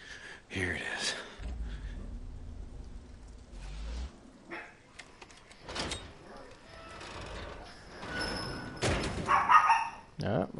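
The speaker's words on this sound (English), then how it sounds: "my dogs are going ape shit about something" Dogs bark in the Days Gone video game, with scattered barks among thuds and door-like bumps while a person talks over them.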